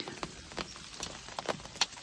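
Rain falls on a Primos Double Bull Surround View hunting blind. Faint, sparse, irregular taps and patters of drops hit the fabric close by in quiet surroundings.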